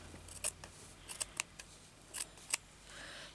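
Pinking shears snipping through paper while trimming a piece of junk-journal ephemera to size, a series of close, crisp cuts in irregular bursts with short pauses between, no talking.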